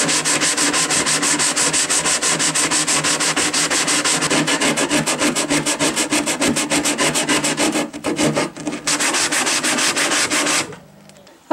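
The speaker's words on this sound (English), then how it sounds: "Okay, so I gave it a good sanding." Rapid, rhythmic rasping of sandpaper rubbed back and forth on a wooden vanity, loud and close, continuing steadily before trailing off near the end.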